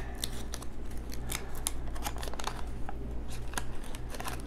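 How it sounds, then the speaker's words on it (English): A 1990 Topps Traded wax paper baseball card pack is torn open, with a run of close, crisp crinkling and ripping bursts at an uneven rhythm in a quiet room. "These wax paper packs are so easy to open."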